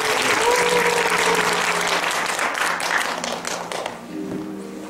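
Louder, denser clapping from a lecture-hall audience at a college keynote fills the room, with some sharp individual claps, then it thins and tapers off near the end.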